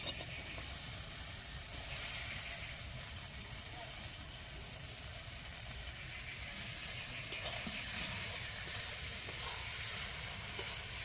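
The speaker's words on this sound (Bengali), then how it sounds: "এরপর আমি বাঁধাকপিটা দিয়ে দিচ্ছি।" Chopped cabbage frying in a pan for a Bengali fish-head cabbage dish, a steady, close sizzle and hiss with faint crackles that runs without a break, while someone speaks over it.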